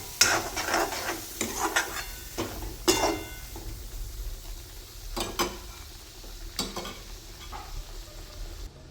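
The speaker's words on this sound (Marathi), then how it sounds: "आपल्याला याच्यामध्ये परतून घ्यायचं आहे" Dry masala sautéing in hot oil in a pan, a steady sizzle and fry with repeated spoon scrapes and clinks as it is stirred, close and continuous with no talking.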